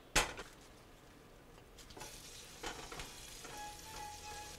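Shallots and bok choy sweat gently in a pan, a soft low sizzle with an opening clack and a few light stirring taps, fairly quiet and without talk.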